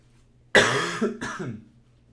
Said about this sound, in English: now I just cough a bit